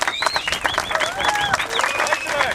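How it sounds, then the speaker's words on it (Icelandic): A crowd at the 2015 Icelandic motocross championship prize-giving at Bolaalda applauds a young rider from the 85 cc class, with steady clapping mixed with voices and whistling-like tones. "Það er klappa vel fyrir því."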